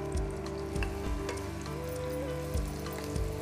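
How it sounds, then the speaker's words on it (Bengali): Bacon frying in onion paste in a pan, a quiet steady sizzle with faint crackles and a few soft clinks of a spatula or utensil at intervals. "আর আমাদের পেঁয়াজ বাটাটার ভেতরে একটুখানি বেকনটা আমরা ভেজে নেব"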